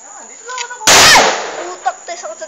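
A single firecracker bursts loudly in a sharp, close blast at night and then decays. Scattered voices are heard before and after.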